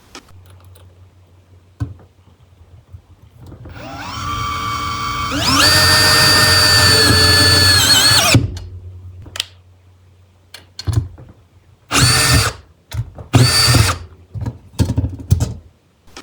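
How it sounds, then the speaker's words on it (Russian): A Makita DDF083 cordless drill whirs up driving self-drilling metal screws, running steadily for a few seconds, then stops; several shorter drill bursts follow with brief pauses in between. "Саморез по металлу со сверлом. С ними он справляется отлично."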